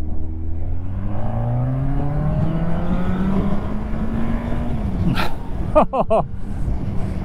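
Exhaust of a Yamaha XJR roadster motorcycle on a country road rises through the revs, then gives a short burst of sharp pops and crackles as the throttle closes, close and loud.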